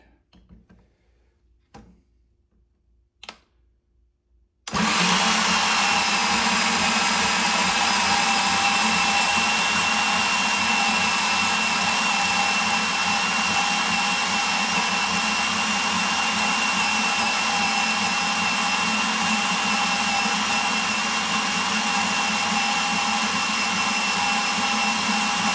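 Power tool cuts through 1-inch hex metal stock, a loud, steady, harsh whine that starts abruptly after a few quiet clicks and continues without a break.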